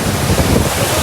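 Dam water rushing and flowing at a monsoon-season dam outing, a steady broadband roar close to the microphone with wind buffeting mixed in, continuous and loud with no talk.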